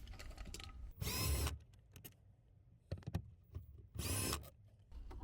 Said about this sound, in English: Just 2 10mm bolts we're going to remove.